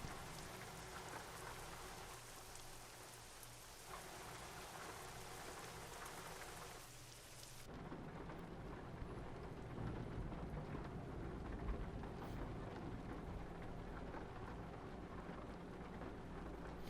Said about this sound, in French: Bon, on a vraiment une forte pluie là pour cette mission.